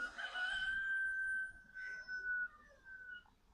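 A rooster crows with a long, sustained cock-a-doodle-doo close by on a home property during summer planting, followed by a few softer clucks; no one speaks over it.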